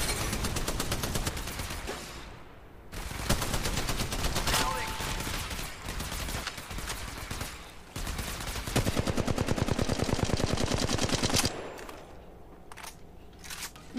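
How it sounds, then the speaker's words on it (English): Rapid gunfire bursts from shooting in the Apex Legends video game at Kings Canyon, loud crackling volleys repeating across the stretch with brief pauses and a quieter tail near the end. "Shooting."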